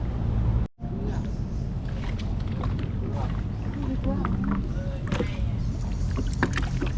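A boat passes on Tonle Sap lake in Cambodia on a windy day, making a continuous rushing rumble of motor and water close by. People talk over it throughout.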